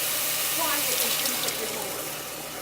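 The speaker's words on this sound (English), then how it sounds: "I'm going to go ahead and pour in my diced tomatoes" Wet, sloshing canned diced tomatoes pour into a pot for a couple of seconds, a soft gurgling splash close up.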